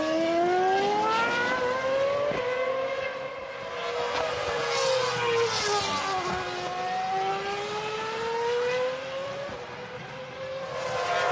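A Formula 1 car races past at about 300 km/h at the 2006 Spanish Grand Prix in Barcelona, its high-pitched engine screaming loud and continuous, the pitch rising and falling through gear changes and the passing sweep.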